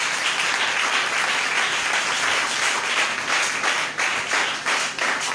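A church congregation applauds and cheers during a seminar service, a loud, dense wash of clapping that holds steady for the whole stretch with no voices breaking through.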